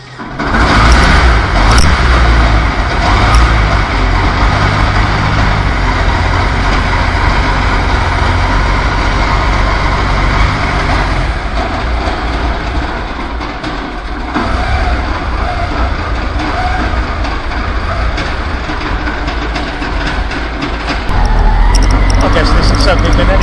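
A custom car called The Beast, built by John Dodd, roars loudly and steadily with a big engine note that dips briefly and then surges again, close up and dominating throughout.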